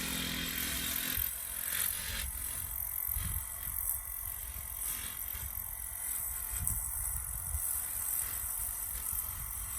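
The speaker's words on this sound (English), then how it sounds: "Emard's doing the weed whacking." A string trimmer whirs steadily throughout, a continuous buzzing drone at moderate distance with slight surges and dips, outdoors at a construction site, with no talking.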